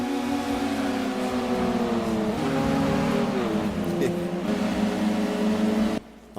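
Race car engines drone at steady high revs in Gran Turismo 2 during a Super Touring Car Trophy race with a Miata, Vitz and Elan, the pitch shifting with gear changes and bursts of tire squeal, before cutting out abruptly.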